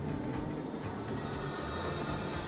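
A train pulls out of a station in the railway simulation game Train Fever, a steady low rumble of rolling rail wagons filling the short stretch without speech.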